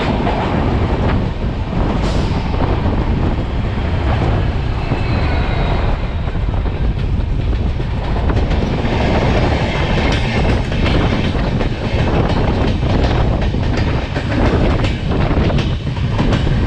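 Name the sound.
Guwahati Silchar Express train with ALCO twin locomotives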